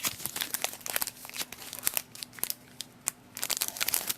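A Pokémon Ancient Origins booster pack from a Mega Absol box being torn open and handled, with close, irregular crinkling and tearing of foil wrapper in quick bursts and brief pauses, and no talk.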